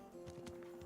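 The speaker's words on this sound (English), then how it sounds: "Get up there quickly, horsey. Go." Horse hooves clip-clop in the medieval video game Kingdom Come Deliverance 2, a few quiet rhythmic thuds over faint background tone.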